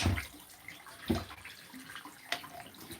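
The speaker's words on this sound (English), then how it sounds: "So I'm just gonna quickly put the water in there." Water is poured into a container in quick splashy bursts, a few distinct gushes and trickles at close range with no talking.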